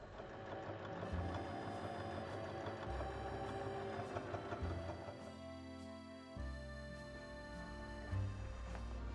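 A sewing machine runs steadily, stitching all the way around a fabric drawstring bag with a continuous mechanical whir that pauses briefly and resumes, close and fairly loud throughout.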